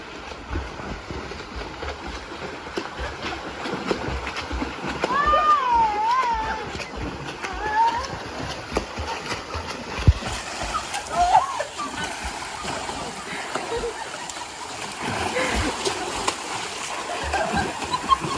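Children race in a swimming pool, swimming to touch a ball and back. Scattered splashing and sloshing water sound at moderate distance, fairly soft, with voices talking and calling throughout.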